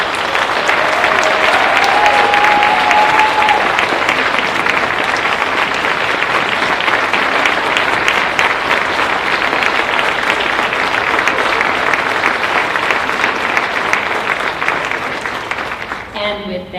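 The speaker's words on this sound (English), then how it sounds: "Let's have one more collective round of applause for our inductees." A ceremony audience applauds athletic honorees with sustained, dense clapping filling the room, loud and even throughout, fading only at the very end.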